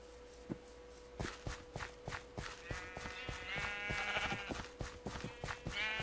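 Sheep bleating in the Minecraft video game, several repeated bleats over a steady rhythm of blocky footstep clicks, fairly close and clear with no talking.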